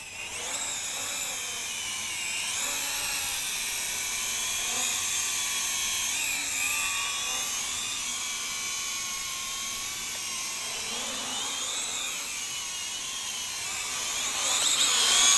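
A WLToys Q323B brushed, geared toy quadcopter flies continuously, its small motors giving a steady, high-pitched whine that rises and falls as the craft manoeuvres, ending in a louder surge.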